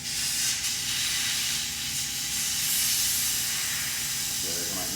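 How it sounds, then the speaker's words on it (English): Air hisses steadily and loudly out of an electric scooter tire, a Kaabo Wolf Warrior 11, once its valve core is pulled, a continuous broadband rush lasting several seconds with a faint voice underneath. "Going to remove that valve core out of there"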